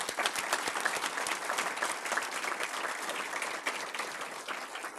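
An audience at a school district's Education Wall of Distinction ceremony applauds honorees with a full, sustained round of clapping, dense and even, with faint crowd murmur beneath it.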